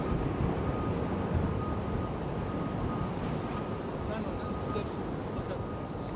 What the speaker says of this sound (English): that wind is kicking, bro